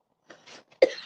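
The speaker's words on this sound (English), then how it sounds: "I've had this cough for like I guess a month and a half now" A single sharp cough bursts out after softer breathy throat sounds, close and fairly loud, from a person with a lingering chest cough that has lasted about six weeks.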